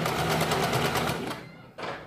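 Sewing machine stitching a blouse back design onto canvas paper, a steady rapid mechanical whirr for over a second, then a short pause and a brief final burst of stitching, close and fairly quiet.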